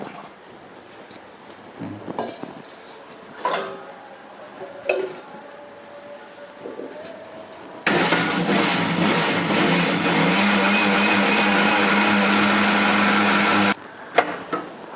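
An electric blender whirring loudly and steadily for about six seconds as it mixes banana, dates and milk into juice, preceded by a few scattered clicks and handling knocks and cutting off abruptly.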